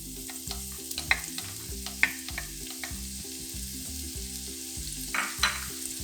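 Thinly sliced leek frying in a pan of melted butter mixed with olive and vegetable oil, a steady close sizzle with a few sharp spatula scrapes and clinks as it is stirred, over soft background music.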